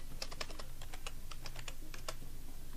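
Fingers type on a physical computer keyboard, a quick irregular run of crisp, close key clicks heard alone against a low background hum.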